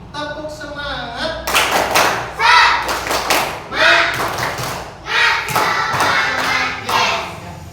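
A primary school class does the rhythmic tepuk semangat routine, bursts of loud, close group clapping in patterned beats alternating with children chanting together.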